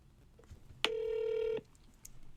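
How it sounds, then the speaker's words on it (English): A phone call placed to an automated voice agent rings through as a single electronic ring tone, about three-quarters of a second long, against a quiet background. "we'll just give it a call with the number that I have attached"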